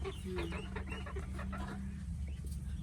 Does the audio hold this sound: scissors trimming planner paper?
no